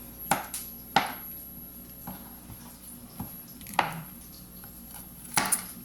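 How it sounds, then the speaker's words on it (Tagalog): A knife cuts through hotdog on a board in a home kitchen, a handful of sharp, separate chops spaced irregularly, close and moderately quiet with no talk. "Habang kinakat niya yung hotdog doon."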